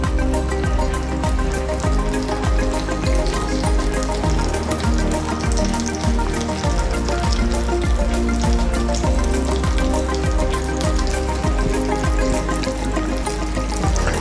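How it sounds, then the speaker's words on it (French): Folded brick pastry frying in hot oil, a dense continuous sizzle and crackle with rapid popping bubbles, close and steady throughout with no voices. "votre huile est bien chaude, vous pouvez lancer la cuisson"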